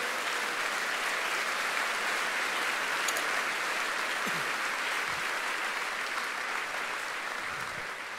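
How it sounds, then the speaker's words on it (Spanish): A church congregation applauds together in sustained, dense clapping that holds steady for several seconds, loud and continuous with no pauses. "Denle un aplauso grande al Señor."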